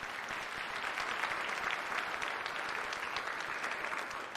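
Dense, sustained applause from the audience at a State of the City address, many hands clapping together in an even, loud roar that holds for the whole stretch.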